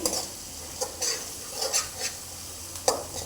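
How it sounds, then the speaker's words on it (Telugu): Egg fried rice with turmeric sizzles in a pan, the spatula scraping and stirring in short irregular bursts over a soft, steady frying hiss. "ఇంకా కొద్దిగా ఫ్రై కావాలండి ఇది"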